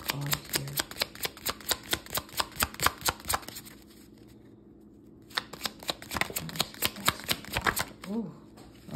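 Tarot cards are shuffled in rapid, rhythmic riffles for a long stretch, pause briefly, then resume; a voice speaks softly underneath during the reading.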